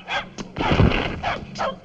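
A dog barks and whimpers during a scuffle in an old comedy short, with short yips and a longer whining cry, close and fairly loud.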